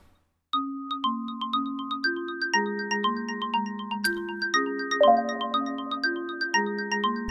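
A clean, thin FM synthesis tone plays a slow sequence of soft plucked notes, each decaying gently, with a narrow, contained timbre and no speech.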